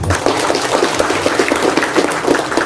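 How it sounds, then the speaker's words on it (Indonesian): An audience at a village official's speech gives a dense round of applause, loud and close, with no voices over it. "Tepuk tangan."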